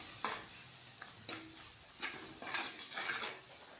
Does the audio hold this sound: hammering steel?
no